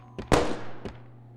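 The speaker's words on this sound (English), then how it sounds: "Sounded like a gunshot, right?" A gunshot in the survival horror video game Crow Country: a sharp, booming report followed by a fading echo, with a softer thud just after, heard alone against a low hum.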